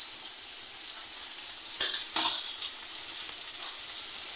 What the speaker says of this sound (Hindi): मसाला को अच्छे से फ्राई कर लेते हैं।